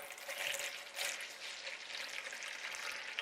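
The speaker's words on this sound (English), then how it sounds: "So I'm going to put some water in there and see how it foams." Water pours into a bowl holding a lemon and lavender bubble scoop mix, a steady close splashing trickle that runs the whole time with a brief surge near the start.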